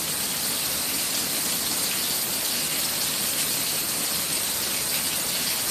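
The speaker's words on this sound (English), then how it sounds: "Oh, I love listening to the rain." Heavy rain pours down in a thunderstorm downburst over a road nearly covered in water, a dense, steady hiss of falling water and splashing that stays loud and unbroken throughout, with no voices.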